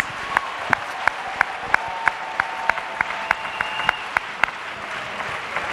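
An audience at a Bible camp church meeting in Côte d'Ivoire claps together in a steady, rhythmic beat of sharp, even claps with a faint voice underneath.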